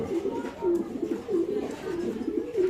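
Pigeons caged for sale at a market coo in repeated rhythmic phrases, close and fairly clear, over a low crowd murmur with faint background talk.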